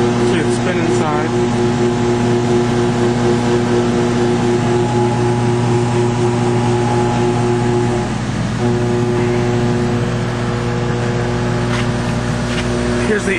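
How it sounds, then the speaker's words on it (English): A Yellow Jacket Wayne Machine and Die laboratory extruder, three-phase 230 volt, runs with a steady motor hum and spinning drone of strong sustained tones, close and loud, the pitch shifting slightly partway through. "You can see we could vary the RPMs of the extruder. See it spin inside."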